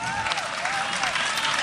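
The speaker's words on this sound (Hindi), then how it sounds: "तालियां खूब जोर से बजाइए" A crowd at a live Hindi-Urdu song performance applauds in a dense, continuous wash while a singing voice and music carry on over it.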